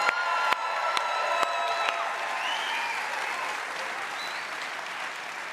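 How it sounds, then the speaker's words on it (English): A church congregation applauding and cheering during an online service, sustained clapping with whoops and crowd noise that slowly fades, a few sharp claps standing out near the start. "give me a round of applause for the Lord"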